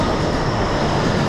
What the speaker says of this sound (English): here comes the next train I got to take